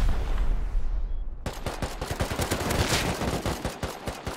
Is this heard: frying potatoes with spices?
no